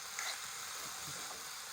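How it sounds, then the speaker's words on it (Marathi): A tempering of chili, turmeric and cumin crackles in a pan with a soft, even sizzle and faint stirring, quiet and with no voices. "मिरची हळद जिरं टाकून फोडणी दिलेली आहे आणि त्याचं थोडं हलवून घ्यायची सगळ्यांनी."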